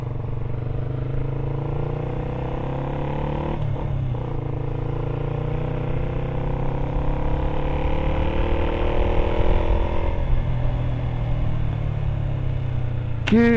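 A Yamaha MT125 motorcycle fitted with an exhaust silencer hums steadily while riding, a continuous close engine drone with a slight rise in revs midway, no talking.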